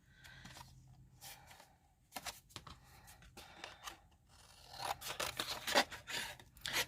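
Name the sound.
scissors cutting watercolor card to size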